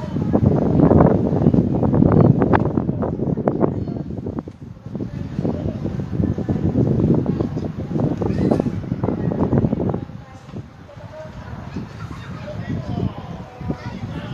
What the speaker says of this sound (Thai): ที่นี่ลมแรงมากวันนี้ลมโหแรงสุดๆนะครับ